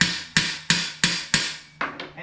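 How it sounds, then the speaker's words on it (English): A hammer taps a vertical connector down onto heavy-duty steel garage shelving: six sharp, evenly spaced metallic knocks, close and loud, the last two lighter and quicker. "Now you take the hammer"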